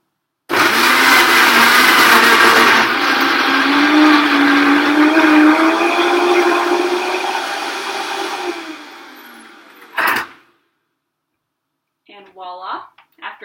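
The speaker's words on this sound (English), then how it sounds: "next we're going to blend it all up. Here I actually have a Vitamix blender" A Vitamix blender crushes ice into a purple smoothie with a loud, steady whir for about nine seconds that slowly winds down. A clunk follows, then someone speaks briefly.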